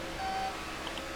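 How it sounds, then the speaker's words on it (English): A single steady electronic beep tone sounds in NASCAR 15 during a race, faint over the constant engine drone of the car on track. "It's starting to beep."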